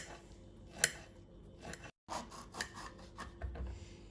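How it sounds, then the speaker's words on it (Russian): A knife chops pickled cucumber on a board into strips and cubes, giving a quick series of close, crisp cuts and scrapes with a brief pause midway. "Нарезаю его сперва на пласты, затем на соломки и, наконец, кубиками."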